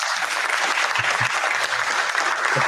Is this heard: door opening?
no